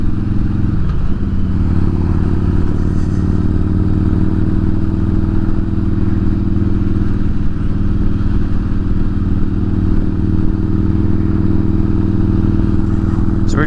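A motorcycle cruises along a highway with the helmet visor down, giving a loud, constant engine drone and rushing wind noise heard close up from the rider's seat for the whole stretch.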